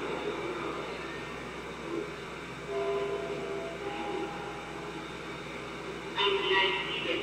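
An Intercity train runs along the rails in 1991 West Germany, a steady low rumble and rolling clatter throughout with a brighter burst near the end and no voices.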